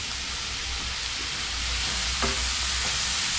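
Onion sizzling and frying in a pan, a steady close hiss with faint stirring clicks throughout, no voices.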